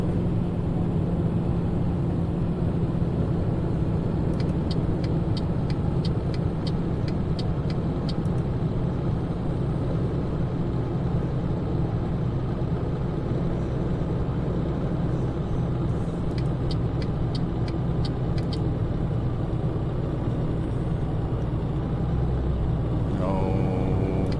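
Truck engine in Euro Truck Simulator 2 driving on a highway, a steady loud low rumble and road drone that continues unbroken, with a few faint high ticking bursts partway through.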